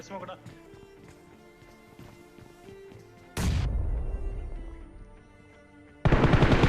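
Grenade blasts and gunfire in a battle royale video game, first in rapid distant shots under a talking voice, then two sudden loud explosive bursts that drown everything out.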